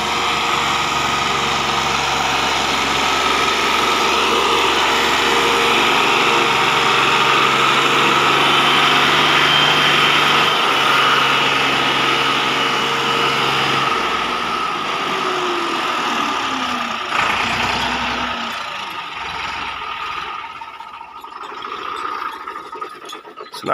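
Tractor climbing a slope with a loaded trailer, its engine droning loud and steady with a strained tone, then shifting pitch and easing off toward the end.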